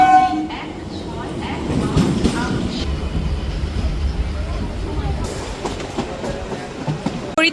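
A local train rumbles through Dum Dum railway station with a horn blast and rolling wheel clatter, loud and close on the platform, while voices murmur in the background.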